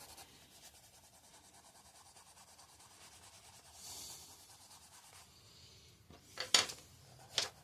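A colored pencil rubs softly on paper in a coloring book, a faint, continuous scratchy texture that swells into a few sharper strokes near the end, close and quiet.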